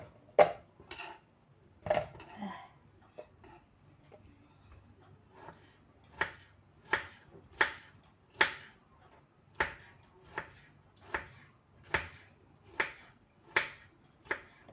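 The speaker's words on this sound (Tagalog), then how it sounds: "Dali-dali natin mag-iwa guys" A knife chops food on a cutting board in quick, crisp single strokes, over a dozen sharp knocks spaced about half a second to a second apart. The sound is close and fairly quiet, with no talking.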